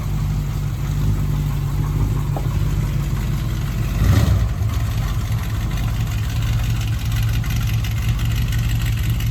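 A Dodge Ramcharger with a 360 engine running steadily on its first test drive, a constant low, mid-level engine drone with a brief louder swell near the middle and no talking.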